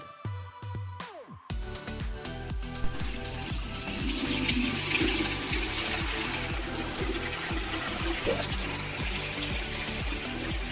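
Water dumped and rushing during exterior cleaning, a sustained gushing flow that begins abruptly after a short musical intro and carries on steadily under rhythmic background music.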